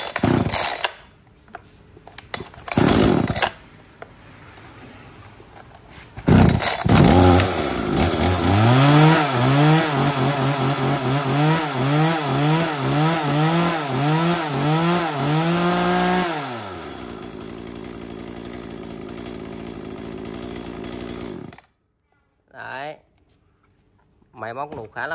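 A used Japanese chainsaw is pull-started and runs, its engine revving up and down in a rapid rising-and-falling rhythm before cutting off, with someone talking before and after.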